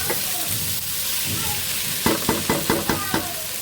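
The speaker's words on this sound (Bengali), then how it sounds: "সবজি আগে ভেজে নিচ্ছি ভালো করে এখন চালটা ভেজে নেবো" Rice fries in a pan for khichuri under a continuous sizzle, then a run of six rhythmic, evenly spaced scrapes as a spoon stirs it, close and clear, with no talking.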